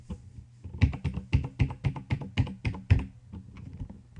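Keys on a computer keyboard are typed in a short burst of about a dozen crisp, evenly spaced taps, close and clear, then trail off into a few softer clicks.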